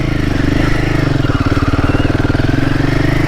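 A Royal Enfield Himalayan 450 motorcycle engine runs loud and close on an off-road ride, its single-cylinder exhaust giving a steady rapid thumping pulse throughout.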